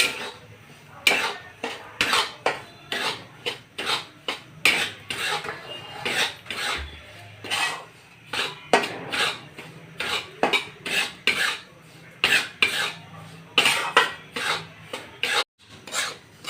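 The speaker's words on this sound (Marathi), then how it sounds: "हा रवा आपण भाजून घेऊया" Semolina roasting with ghee in a pan, stirred with a spatula: a steady run of sharp, close scraping strokes against the metal, roughly one or two per second, with short quiet gaps between them and no speech.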